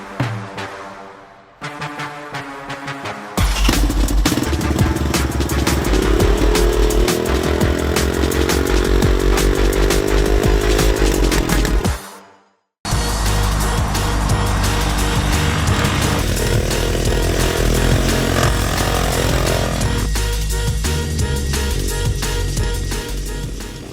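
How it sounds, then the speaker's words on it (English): A three-wheeler ATV's 192 cc air-cooled four-stroke single-cylinder engine runs loud and close, revving in long sustained pulls with a brief cut-out midway, its buzzy drone steady and unbroken by talk. "This one specifically has 192 cc's, air-cooled 4-stroke 1-cylinder engine"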